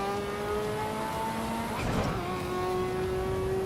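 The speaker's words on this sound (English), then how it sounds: "the sound of the gear change is so, like, interesting" A Volvo S60R engine in a racing simulator holds a steady revving whine, dips and rises through a gear change with a brief burst of noise midway, then settles back into a constant drone.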